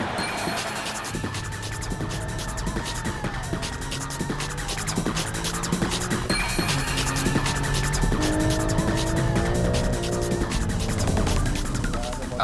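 A BMW M3, a Porsche and a Nissan GT-R racing on a track, engines droning and shifting pitch with repeated tire squeals and skids, loud and continuous.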